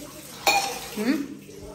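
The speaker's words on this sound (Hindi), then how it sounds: "तू भी आज बर्तन धो रही है" Dishes being washed at a kitchen sink give a sharp clink near the start, then lighter rattling of pots and cutlery over a steady hiss, with a faint voice in the background.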